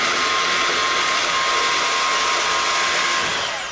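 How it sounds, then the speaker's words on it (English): Bandsaw cutting metal pieces for a mini truck bed, a steady loud whining, hissing cut with a sustained tone, ending as the blade finishes the piece. "again, using our bandsaw."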